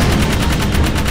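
Rapid automatic gunfire from the Jak 3 video game, a loud, fast, evenly spaced stream of shots lasting about a second, heard alone and close.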